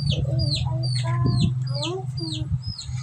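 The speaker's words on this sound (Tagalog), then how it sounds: "ito naman po guys yung sisiw po namin" Young chickens chirp and cluck in a quick series of high, bright calls, close by and fairly loud over a steady electric fan hum, with soft fowl clucks mixed in.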